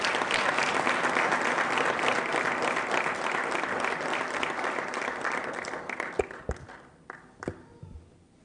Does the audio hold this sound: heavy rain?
no